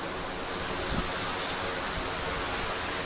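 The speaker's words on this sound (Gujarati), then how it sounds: "તો મિત્રો વરસાદનો અત્યારે ફૂલ ચાલી રહ્યો છે" Heavy monsoon rain pours steadily outside a house, a dense, even hiss of falling water with no pauses and nothing else standing out.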